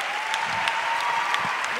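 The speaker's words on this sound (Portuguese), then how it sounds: "vamos dar uma salva de palmas aos pastores" A youth conference congregation at a church event applauds for the pastors with steady, dense clapping, while a faint tone hums underneath.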